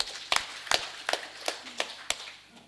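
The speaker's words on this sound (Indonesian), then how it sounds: "Tepuk tangan dulu Masjid Demak." Six sharp, separate claps ring out at an even pace during a mosque working meeting, with quiet room tone between them, as a small group's slow, rhythmic clapping for the mosque.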